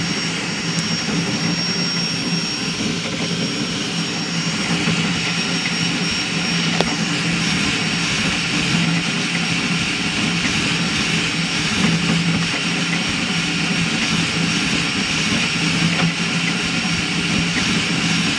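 Steady, continuous motor whine with a high tonal hum from a cross-gantry 3D printer printing a speed benchy, running unbroken and fairly loud throughout, with no voices.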